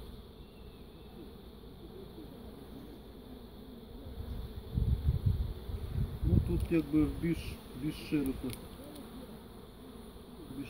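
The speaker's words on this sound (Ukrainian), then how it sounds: "Бджола літає не дуже сильно." A steady buzzing hum of many Carnica honeybees flying around a hive on a cool 15-degree day, nearby and moderately loud, with someone speaking briefly partway through.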